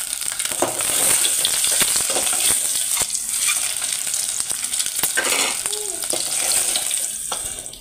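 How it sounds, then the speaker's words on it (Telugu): An egg sizzles and crackles in hot oil in a home kitchen, a loud steady frying hiss with occasional pops and stirring scrapes nearby. "గుడ్డు ఫ్రై అయితే చేసేసినాను అనమాట"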